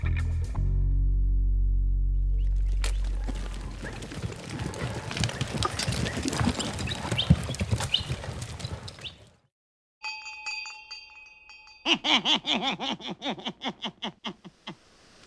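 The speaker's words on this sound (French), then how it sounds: "Chevaux interdits aujourd'hui en ville." Horse hooves clip-clopping on a town street, a steady run of hoof strikes over a dense, busy background, then a brief quiet and a second burst of clear rhythmic clopping with faint metallic clinks.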